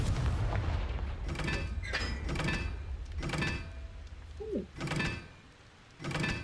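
The Confringo spell in Hogwarts Legacy goes off as a series of muffled, booming blasts in rhythmic bursts over a low rumble, with faint clunks between them.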